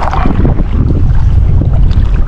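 Strong wind blowing over a lake while fishing from a boat at Lago Serra da Mesa, a loud continuous rumbling roar close to the microphone with no pause.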